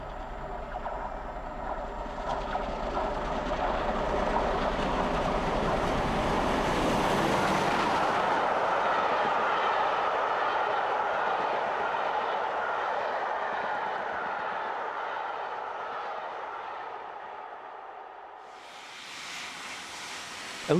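Restored Great Western steam locomotives on the line near Didcot, passing as a long, steady rumble and rush that swells to a peak, fades, then returns briefly at the end.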